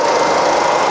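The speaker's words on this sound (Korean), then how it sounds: "엔진 소리 한번 들려드릴게요" A Samsung SM sedan engine with about 160,000 km and a timing chain runs steadily, a loud, even mechanical hum and whir close by with no talking.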